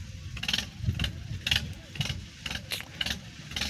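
A Mahindra tractor engine runs in an open farm field, a steady low rumble with rhythmic pulsing and repeated brighter bursts riding over it, fairly close and moderately loud, with no clear talk.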